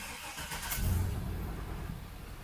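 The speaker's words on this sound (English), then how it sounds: "I'm going to fire it up and we'll see what's actually happening here." A truck with a faulty charging system cranks and its engine starts up, a low rumble swelling and settling into a steady idle, close by and with no talking.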